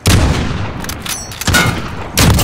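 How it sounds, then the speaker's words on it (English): Precision airstrike explosions in a first-person shooter, a few heavy booming blasts in close succession with one louder impact near the end, loud and close with no talking. "Friendly precision airstrike on the way"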